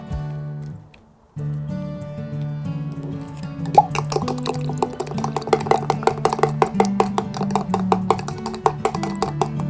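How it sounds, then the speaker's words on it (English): Sodium alginate is stirred vigorously into juice, giving rapid rhythmic clinks and liquid plops against the container, repeating steadily and close up over a low sustained tonal hum, with no talk. "You're going to want to stir quite vigorously to try and mix it in as much as possible."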